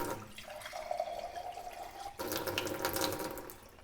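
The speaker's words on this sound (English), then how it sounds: "What we're going to do is put the water in this glass." Tap water runs into a glass, a steady rushing stream whose tone changes partway through as the flow grows louder and brighter, close by with no talking.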